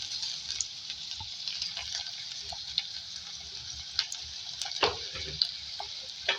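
Chopped garlic and green chilies fry in a pan for a bhindi and semi vegetable dish, giving a faint, steady sizzle with occasional light spoon taps and scrapes.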